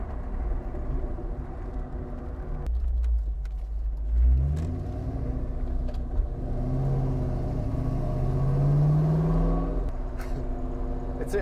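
A 1999 Ford Mustang SVT Cobra pace car's engine revs while driving, a steady close rumble climbing in pitch through several throttle rises with no talk.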